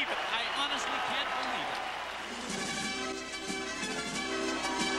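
Pauley Pavilion crowd cheering and applauding at a gymnastics meet, a loud sustained roar under excited commentary.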